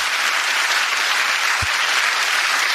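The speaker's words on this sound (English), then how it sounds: "Notice how quickly the applause came." Steady applause from an audience at a talk, dense and continuous throughout with no voices over it, and one brief low thump near the middle.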